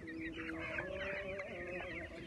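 Chicks and chickens from a truckload left beside a canal keep up dense, continuous cheeping and clucking at close range, with no talk over it.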